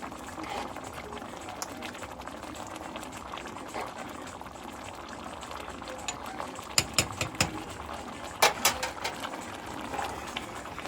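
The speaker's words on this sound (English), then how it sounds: "now that it's boiling a lot" A pot of pasta water bubbling at a rolling boil, a steady churning hiss with a few sharper clinks and pops near the end.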